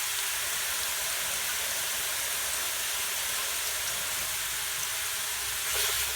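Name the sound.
food sizzling in olive oil while being stirred in a pan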